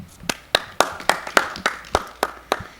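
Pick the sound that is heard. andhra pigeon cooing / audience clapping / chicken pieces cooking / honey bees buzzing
audience clapping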